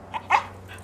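A dog barking on command indoors: a small yip followed by one louder, short bark, close and alone.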